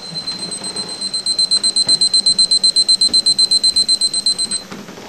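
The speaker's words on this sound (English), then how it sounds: "Oh, there's the timer." A kitchen timer alarm rings during pickle canning with a rapid run of about two dozen high-pitched beeps in an even rhythm, loud and close, then stops abruptly.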